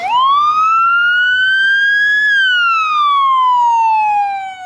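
An ambulance siren in traffic sounds loud and close in one long wail that rises steadily, peaks, then slides back down, with faint road noise beneath.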